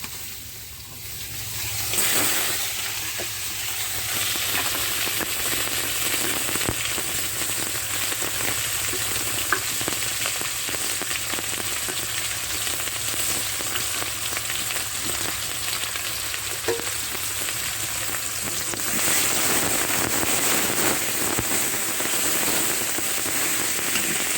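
Ground onion, garlic and ginger paste frying in pangas fish oil, a loud, continuous close sizzle with occasional stirring scrapes, briefly quieter at the start before the full hiss builds.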